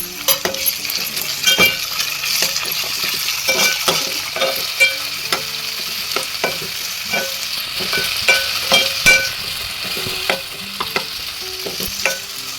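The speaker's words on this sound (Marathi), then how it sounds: "कांदा शिजल्यानंतर त्याच्यामध्ये आपण टोमॅटो ॲड करणार आहोत." Tomatoes go into cooked onions in a pan for chicken biryani, giving a steady sizzle and frying hiss broken by repeated sharp clicks and scrapes of a spoon stirring against the metal pan.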